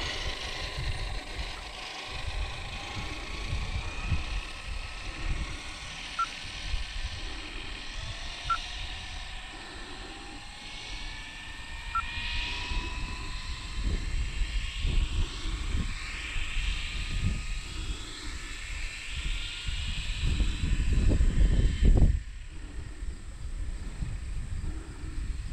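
Arrma Mojave EXB RC car on a speed run, its high-pitched electric motor whine rising steadily as it accelerates down a stretch, with breezy wind noise throughout and a loud close pass near the end before it cuts away.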